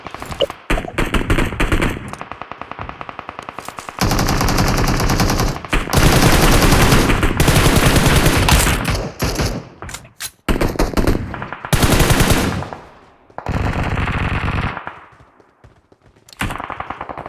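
An M249 machine gun fires in a battle royale video game in loud, close sustained bursts. The bursts are separated by short silences, with no talking.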